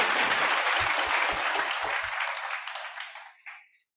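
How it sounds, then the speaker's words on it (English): A crowd at a memorial tribute for a police major general gives a full, dense round of applause that holds steady for about three seconds and then quickly fades to silence. "Another round of applause to our Dr."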